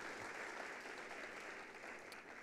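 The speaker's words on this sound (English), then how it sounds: "Please give a round of applause to Pak Lim." A summit audience applauds in a continuous, even patter of many hands, fading slightly toward the end.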